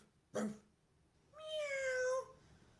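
A short sharp sound is followed by a drawn-out, wavering meow, faint but distinct, likely a person mimicking a cat.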